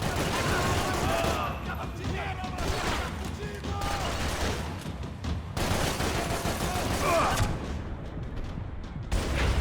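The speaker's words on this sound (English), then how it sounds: "Would you like some blind fire?" Bursts of blind-fire gunshots from Max Payne 3, dense and repeated across the whole stretch with loud cracks and rolling booms, mixed with game action noise and occasional voices.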